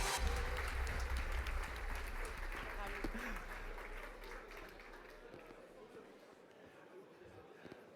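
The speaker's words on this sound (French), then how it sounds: "Et on les applaudit" A crowd at an awards ceremony applauding a winning team loudly at first, the clapping gradually thinning and fading over several seconds, with voices mixed in.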